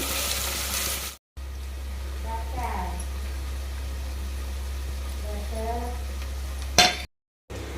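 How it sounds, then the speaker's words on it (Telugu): Ginger-garlic paste fries in a pan with a faint, steady sizzle under a low constant hum, broken by two brief silences, with a voice speaking quietly over it. "అల్లం వెల్లుల్లి పేస్ట్ వేసుకుంటున్నాను పచ్చివాసన పోయే వరకు వేయించుకున్న తర్వాత"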